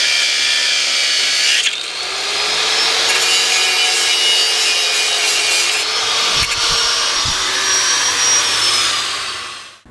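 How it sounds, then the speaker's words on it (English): A power cutting tool slices a bracket ear off a Chevy K20 truck transmission during exhaust work, a loud, steady grinding whine running nearly the whole time with a brief dip partway through and short thumps near the end. "So I'm going to cut that piece off of that transmission there first"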